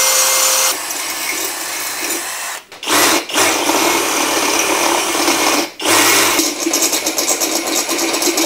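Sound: drilling a pilot hole through metal on T Bucket hot rod

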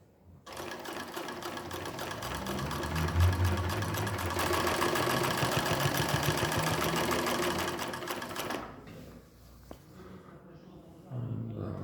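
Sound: Highlead GC 343 triple-feed sewing machine stitching

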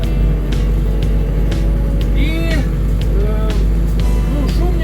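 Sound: tractor engine noise inside cab

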